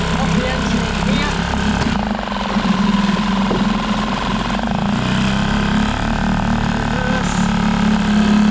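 An outboard motor, unserviced for two years, runs steadily with a loud, constant engine drone and vibration, with voices talking over it now and then.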